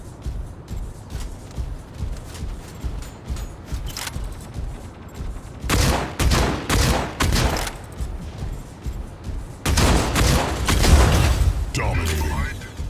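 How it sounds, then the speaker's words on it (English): Incoming gunfire in the robot combat game Mech Arena: Robot Showdown, with two loud bursts of rapid shots against a steady low rumble of battle noise, and game voice lines between them. "Incoming fire."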